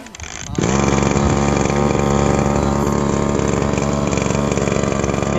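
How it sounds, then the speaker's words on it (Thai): A small petrol engine on a low-cost power sprayer catches after a pull-cord start and then holds a loud, buzzing high rev, heard close up and alone. "โอเคผมจะเร่งเครื่องไว้นิดนึงครับดึงคันสตาร์ทดูนะครับ"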